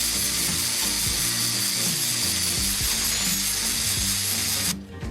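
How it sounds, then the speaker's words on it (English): An angle grinder fitted with a flap disc grinds rust off an old steel file, a loud continuous rasping whine that holds steady before stopping at the end. "I'm going to use a flap disc on an angle grinder to just kind of get out the rust and grind down some of the hard points on this."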